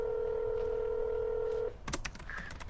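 A steady touch-tone held for over a second while calling a phone number, then a quick cluster of clicks and short beeps, close and fairly quiet, with no speech.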